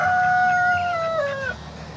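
A rooster crows once near a farmyard where chickens and ducks are kept, a long drawn-out call that falls in pitch at the end, with low background rumble and no talking.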